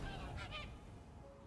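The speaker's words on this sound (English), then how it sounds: "I honked like a duck." A duck-like morph in Throne and Liberty lets out a honk, a couple of quick nasal goose-like honks heard close and clear, then fading into quiet game background.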